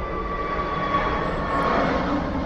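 A fixed-wing airplane passes close by near Bristol Airport, its engine roar a steady broad rumble that swells slightly toward the end, loud and unaccompanied by talk.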